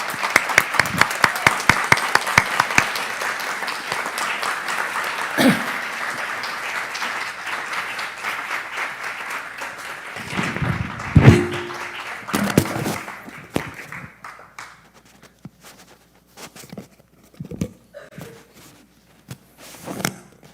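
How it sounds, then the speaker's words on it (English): An audience applauds a chef being welcomed to the stage at an arts and ideas talk and cooking demo. The clapping is strong at first, thins into a scattered patter with a few footsteps, and dies away to near silence. "Please give Moshe Basson a huge round of applause and welcome him to the stage."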